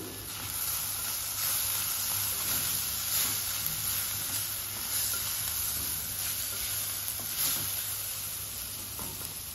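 Turmeric sizzles in hot oil in a pan with ginger-garlic paste, a steady hissing fry with faint stirring scrapes, close and continuous, no talking.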